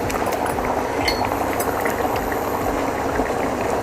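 Egg curry gravy with potatoes bubbles and simmers in a pot, a close, steady thick boiling burble with soft pops throughout.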